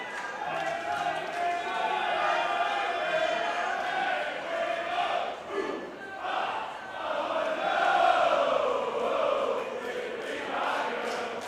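Crowd noise fills a women's wrestling event, a dense, continuous roar of voices that swells and dips, with a commentator talking over it.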